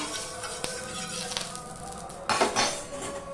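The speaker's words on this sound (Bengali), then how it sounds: "সাদা তেলটা দিয়ে আমি এইভাবে পুরোতে নাড়িয়ে নিচ্ছি জায়গায়" A utensil stirring a small amount of white cooking oil around a pan on the stove, giving soft metallic scrapes and clinks with one louder clatter near the end.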